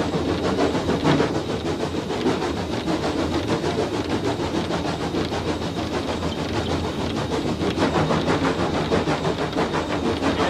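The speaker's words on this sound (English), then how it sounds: "you'll hear the engine start to labour in a second" Steam locomotive working hard up a steep gradient, heavy rhythmic exhaust beats chuffing loudly and continuously close by, with no talk over it.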